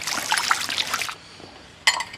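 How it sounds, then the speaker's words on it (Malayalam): A small splash of vinegar poured into a bowl while preparing Kerala payasam in a village kitchen, a soft trickle lasting about a second, then a brief quiet gap before a short second splash. "പൊട്ട് വിനാഗിരി ഇതിൽ ഒഴിക്കുന്നുണ്ട്"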